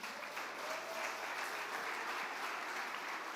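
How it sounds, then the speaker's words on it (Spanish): Quiet, distant applause from an audience at a Spanish-language conference on the Protestant Reformation, an even wash of clapping held steady throughout with no voices. "Un aplauso a ese pasaje."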